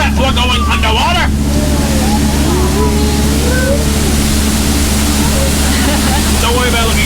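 Boat engine drones under a steady rush of pouring water as the boat passes beneath a waterfall on a theme-park jungle cruise ride, with voices calling out over the constant roar.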